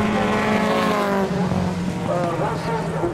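Auto race cars at a regional event roar past close by, engines rising and falling in pitch as a bunch comes through, with a spoken voice over the engine noise.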